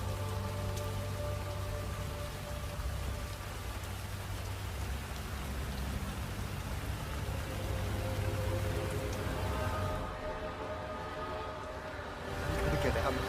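Steady rain in the video game Hitman 3, a dense, even hiss of drops on surfaces with low rumbling underneath, continuous throughout and briefly thinning near the end.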